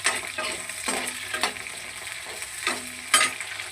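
Green chillies fry in hot oil with a crackling sizzle, and a spoon stirs them in a few distinct scraping strokes.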